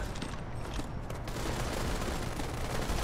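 Rapid, sustained gunfire rattles through a video game firefight, a loud, dense barrage of overlapping shots that continues unbroken for a few seconds.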